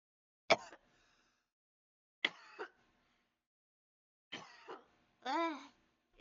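Four separate bursts of coughing over several seconds in a quiet room, short and sharp, close to the microphone, with the last one drawn out and voiced.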